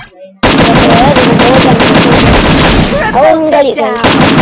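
Rapid gunfire in a video game, a dense burst of automatic shots loud and close, with a voice briefly over the end.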